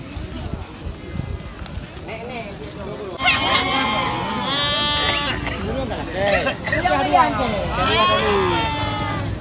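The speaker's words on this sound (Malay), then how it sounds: "Ini ada kambing Kacang. Kambing jenis kacang betina ya." Female Kacang goats bleat repeatedly and loudly, their wavering calls overlapping near the listener during a livestock sale, with people talking in the background.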